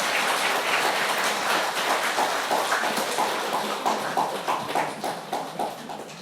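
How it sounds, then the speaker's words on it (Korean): A church congregation claps in encouragement, a dense wash of applause that loosens toward the end into separate, rhythmic claps. "우리 격려의 박수 하도록 하겠습니다"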